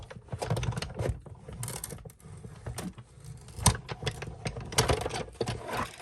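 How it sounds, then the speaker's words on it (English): A die-cutting machine feeds a scalloped die through with a steady mechanical grind, punctuated by clicks and knocks at irregular points, close and moderately loud, with no voices. "So when you run this through your machine, let me do that real quick."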